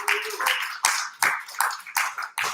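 Audience at a comedy club clapping in bursts, six or seven close, loud swells of applause with brief dips between them and no one speaking over it.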